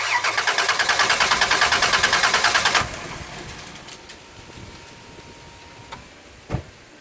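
A car engine cranks with its spark plug out for a cylinder compression test on a misfiring engine, a fast rhythmic starter chug for about three seconds, then it stops and the room goes quiet apart from a few faint clicks.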